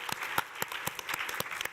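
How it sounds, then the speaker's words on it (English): A small gathering at an ocean literacy conference side event offers a few seconds of sparse applause, with distinct individual claps sounding quietly and unevenly in the room. "An applause for this."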